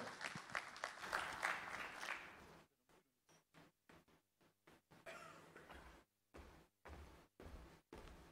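Audience applause welcoming a speaker at a formal ceremony for a Kartepe cable car industry cooperation project. Dense, steady clapping fills the first couple of seconds, then breaks into short, choppy bursts separated by brief silences.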